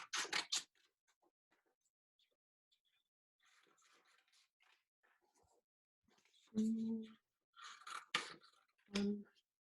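Scissors snipping paper pieces at a craft table, with faint, scattered little cuts and clicks spread out in quiet stretches and brief voices talking between them.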